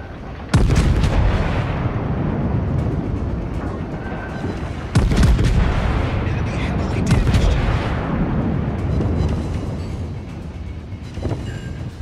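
Heavy warship main battery salvos in World of Warships, several loud booming blasts with sharp onsets around one and five seconds, followed by rumbling, dense battle noise throughout; speech is tagged in places but no words can be picked out.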